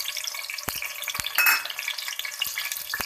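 Tomatoes drop into hot frying oil, giving a loud, dense crackling sizzle with sharp pops scattered throughout and a brief surge of spatter near the middle.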